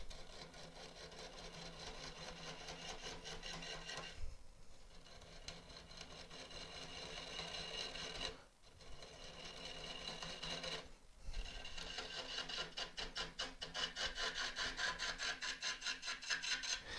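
A woodturning gouge cuts an elm burr spinning on a lathe, giving a continuous raspy scraping roar with fast rhythmic chatter from the uneven burr. Two brief dips interrupt the cut before it resumes and grows harsher.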